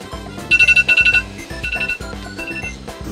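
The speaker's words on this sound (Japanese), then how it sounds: "1分半測って1分30秒のタイマーを開始します" Kitchen timer beeping in rapid repeated bursts, several quick electronic tones per group with short gaps, loud and close, at a rainy campsite.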